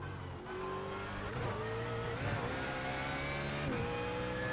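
A race car laps a sim racing game on a Fanatec direct drive wheel, its engine revving and shifting steadily up and down with tire squeal, loud and continuous with no talk.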